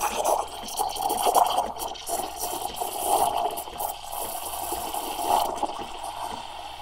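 Water gurgles and sputters from the steam wand of a Breville Barista Express espresso machine as it purges, a continuous wet hissing flow with uneven surges, heard up close.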